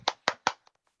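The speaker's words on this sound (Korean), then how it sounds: "박수." A classroom of students claps, three strong hand claps followed by a few faint scattered taps as it dies away.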